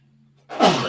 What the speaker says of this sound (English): Excuse me. I sneezed.